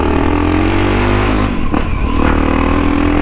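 A Honda XRE 300 Rally motorcycle fitted with a 2x1 exhaust is ridden on the road, its engine loud and close, droning steadily with a brief dip and shift in pitch as the rider changes speed.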